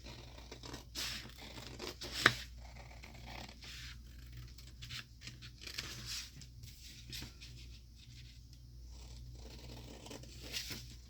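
Scissors cut slowly along the score line of a 12x12 sheet of craft paper, with faint, intermittent snipping and scraping strokes and one sharper click in a quiet room.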